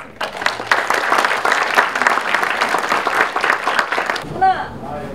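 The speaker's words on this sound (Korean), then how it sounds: "저희 참여 작가님들께 다시 한번 큰 박수" Applause from the audience at an outdoor art exhibition opening ceremony for the participating artists, a loud sustained burst of clapping for about four seconds that stops abruptly, followed by a brief voice.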